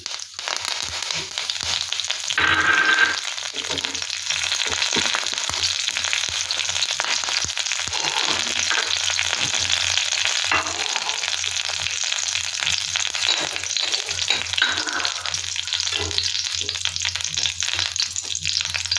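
A few curry leaves frying in hot oil for a Kerala prawn fry, a continuous close sizzle with sharp crackling pops and brief louder spurts, no talking.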